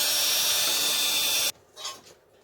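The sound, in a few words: drilling holes with a drill, workpiece held in bench vise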